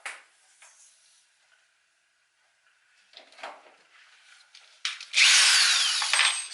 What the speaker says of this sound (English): But I'll use this to ream out the hole.